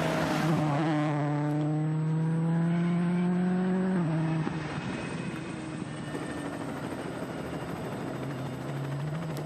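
A loud, steady mechanical drone with a rising harmonic whine, shifting pitch partway through, like a helicopter rotor and engine close overhead, filming a WRC Monte Carlo rally stage.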